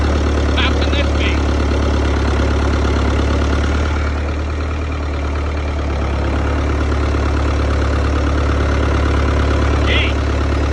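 An Oliver 1355 tractor engine running steadily and loudly nearby, a deep continuous rumbling drone that holds even throughout with only a brief dip midway and a few faint extra noises on top.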